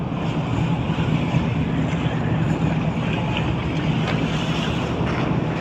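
Steady, loud wind rushes over a boat at sea, with broadband roaring gusts and water churning beneath. No voices.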